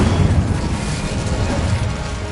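Fiery spell blasts from Incendio and Confringo casting in Hogwarts Legacy, a dense, continuous low rumbling roar of booms and bursts that holds loud and steady throughout.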